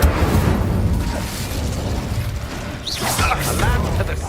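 Incendio fire spell cast in the Hogwarts Legacy video game, a dense roaring burst of game effects with low rumbling booms and a brief rising whoosh partway through, loud and continuous with faint voices mixed in.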